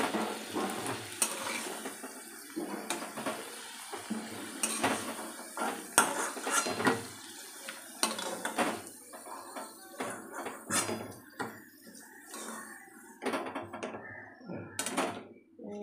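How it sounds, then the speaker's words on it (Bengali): Onions fry in oil in a home kitchen pan, with a metal spoon repeatedly scraping and clattering against the pan over a steady low sizzle, the stirring strokes coming in uneven bursts throughout. "তারপরে পেঁয়াজ টিয়াজগুলো দেবো।"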